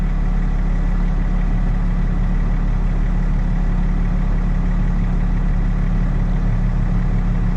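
A John Deere tractor idles loud and close, its heavy low diesel rumble steady and unbroken throughout with nobody speaking.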